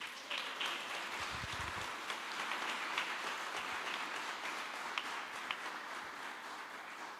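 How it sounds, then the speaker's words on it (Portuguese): Distant crowd applause at a prayer group meeting, a sustained wash of many hands clapping at a steady level throughout. "Eu queria que você aplaudisse isso."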